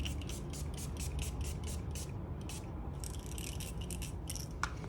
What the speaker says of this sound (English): this is Koola's makeup setting spray with sunscreen.